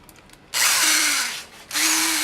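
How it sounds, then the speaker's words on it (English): Power drill driving a stepper bit to enlarge a hole during fuel system work on an LS-swapped E30, two loud close bursts of whirring and grinding separated by a short pause. "we can expand it to size with that stepper bit"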